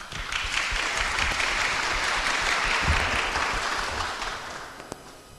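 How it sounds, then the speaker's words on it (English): A seminar audience at a school of philosophy gives steady, dense applause to welcome a speaker, filling the room evenly before tapering off slightly at the end. "Please join us in welcoming him with a warm round of applause."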